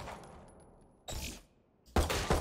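Classic pistol fired in the Valorant shooting range, two sharp separate shots, each a short burst with a quick decaying tail, close and fairly loud, after a quiet stretch.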